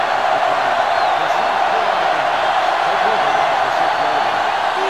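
Stadium crowd noise in NCAA Football 2005 during a South Carolina vs. Clemson game: a loud, steady roar of a sellout crowd filling the whole stretch without pause, under a commentator's voice.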